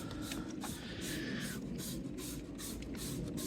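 Repeated bursts of spraying hiss, several short pumps in a rough rhythm, close and fairly loud.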